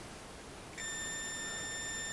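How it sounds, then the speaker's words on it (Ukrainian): A steady electronic beep from a Minsk MIG 380 power supply under repair, with a blown transistor, switches on partway through and holds as a continuous high tone over faint background hiss. "Все пищить."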